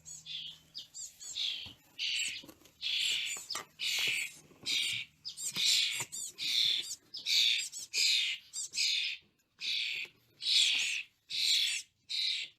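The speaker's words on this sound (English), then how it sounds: "Here are a couple of chickadees." Chickadees call in a series of bright, high chirps and short phrases, repeating in bursts with brief gaps, clear and fairly close against a quiet background.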